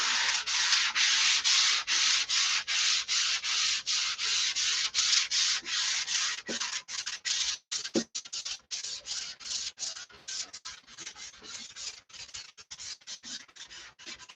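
Sandpaper rubbing over the wood of a control line stunt model plane, close and steady, in long even strokes that turn into quicker, choppier back-and-forth passes, with no talk over it.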